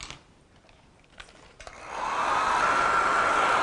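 After a few soft clicks and handling noises, a hair dryer switches on to dry a watercolor painting, its steady airy roar filling the rest of the stretch at close range.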